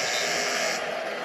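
A basketball arena shot clock buzzer sounds during a game, one loud sustained electronic buzz that holds for over a second and is heard alone.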